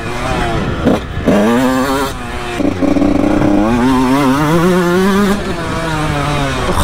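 A motocross motorcycle engine revving hard on a track, loud and close, its pitch climbing and dipping through repeated throttle blips with a raspy, buzzing tone.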